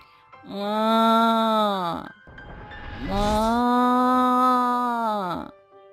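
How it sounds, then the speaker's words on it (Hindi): Two long, loud, moaning calls from a pregnant cow in a village cowshed at night, each lasting over a second with a brief pause between, close and clear with no talking. "वो इतनी रात को इतनी जोर जोर से क्यों रंभा रही है?"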